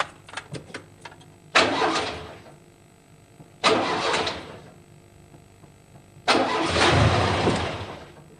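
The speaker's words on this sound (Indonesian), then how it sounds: "Mobil aneh emang udah tua, tapi mesinnya semulus sutra." Old car engine being cranked to start, three separate bursts of loud churning engine noise, each a second or more long, with quiet gaps and a few faint clicks before the first attempt.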